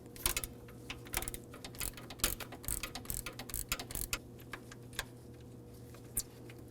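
A hand wrench works a 12mm bolt on the radiator and AC condenser of a 2009-2010 Dodge Ram 1500 with a 5.7L V8, giving irregular metallic clicks and ratcheting ticks close up over a steady low hum.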